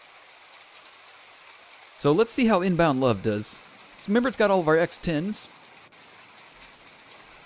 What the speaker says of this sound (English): let's turn off the rain